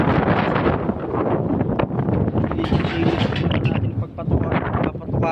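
Strong wind blows outdoors at a rural home, a loud, continuous rumbling roar of gusts hitting the microphone with little break.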